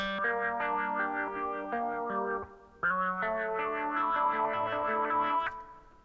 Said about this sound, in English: a kind of psychedelic-y, Pink Floyd-y style guitar effect